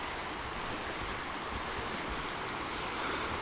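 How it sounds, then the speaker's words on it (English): River rapids on the trail to Williams Falls give a continuous, loud, broad rush of water, with wind buffeting the microphone and no voices. "Oh, rapids."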